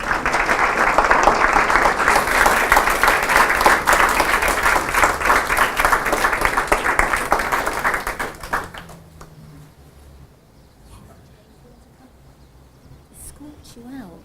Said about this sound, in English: just a final round of applause for Dr. Jane Goodall